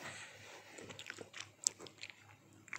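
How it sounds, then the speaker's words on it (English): Someone chews bread close by, with small crunchy bites and soft, irregular mouth sounds over a faint background. "Wait, I'm chewing. That's why I'm silent."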